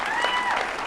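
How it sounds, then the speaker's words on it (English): Audience at a live comedy roast applauding the wait staff, a brief, steady burst of clapping from a full room lasting under a second. "one more round of applause for the wait staff"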